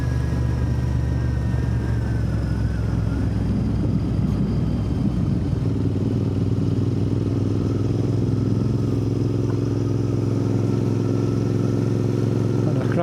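A Royal Enfield Interceptor 650 motorcycle on a Yorkshire back lane near Barnsley, its engine droning steadily and close throughout, with a low rumble and a slight shift in pitch partway through.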